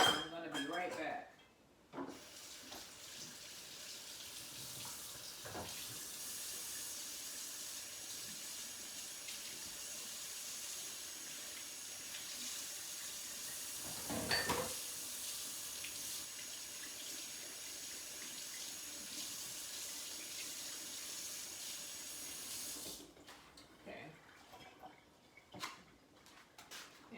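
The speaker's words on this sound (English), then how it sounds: "I'm gonna wash my funnel off" Running tap water pours steadily into a sink as a funnel, just used for canning curry, is rinsed off, with a few soft clatters of the funnel against the basin before the flow shuts off.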